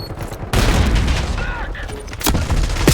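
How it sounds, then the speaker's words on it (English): In a Black Ops 6 Hardpoint match, a frag grenade goes off with a loud, sudden blast amid close, sustained gunfire and crackling shots, followed by another sharp burst near the end. "Get down, frag!"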